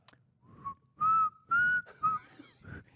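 A person whistles a short melody of the International Song of Peace, several clear sustained notes in a loose rhythm, close and alone.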